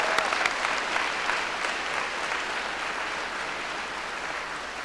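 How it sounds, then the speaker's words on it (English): An audience at a college commencement ceremony breaks into loud, sustained applause, a thick continuous roar of clapping that fades only slightly over five seconds. "we need to give them a round of applause."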